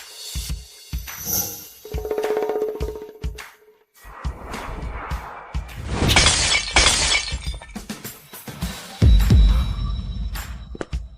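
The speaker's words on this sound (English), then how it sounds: "did you shatter this vase?" A vase shatters indoors, a bright burst of breaking glass or ceramic mid-scene, mixed among other thumps, rustles and dramatic effects, with no speech.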